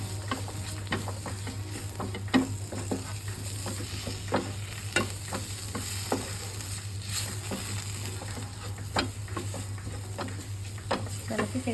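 Mutton masala frying in a pan is stirred steadily, with repeated scrapes and taps of a spoon over a continuous sizzle and a low background hum.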